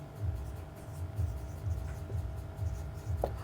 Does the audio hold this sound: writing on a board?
yes